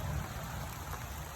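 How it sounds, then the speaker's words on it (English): Steady rain pours down outdoors around container-grown Sugar Baby watermelon plants, a dense continuous hiss of drops close by with no voices. "it's starting to rain pretty good."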